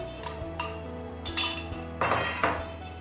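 Flour goes into fruit sponge cake batter as a utensil mixes it in a bowl, giving a few sharp, close clinks and knocks of metal against the bowl with quiet gaps between them.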